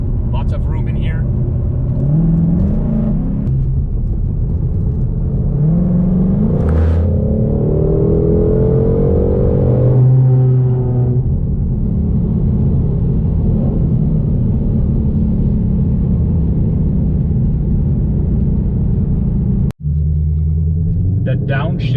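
A 2020 Ford Shelby GT500 engine rumbles steadily from inside the cabin while driving, with rising and falling revs and a downshift-like surge midway, continuous and fairly loud throughout.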